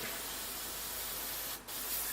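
A steady, close hiss of an aerosol spray can painting 1/35 scale Sherman tank model parts, continuous with one brief pause near the end.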